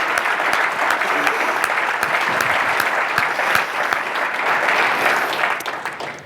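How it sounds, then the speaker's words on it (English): Loud, close applause from a conference audience at a NetHope summit, many hands clapping in a thick continuous roar that holds steady for several seconds before easing. "let's give everyone on the Summit Agenda Committee a big round of applause."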